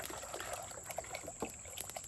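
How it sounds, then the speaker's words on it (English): Water poured into a cooking pot for bushcraft beans outdoors, a soft steady trickle and splash heard alone at low volume. "Just kind of put enough water to cover it and just a little above, like so."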